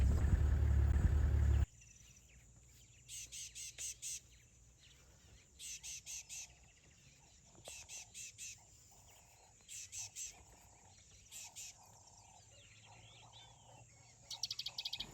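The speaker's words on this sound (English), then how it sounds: "There are some birds." Birds calling on safari in Tanzania near Lake Manyara National Park: a faint background over which short repeated bursts of high chirping recur every couple of seconds, following a brief louder rumble at the start.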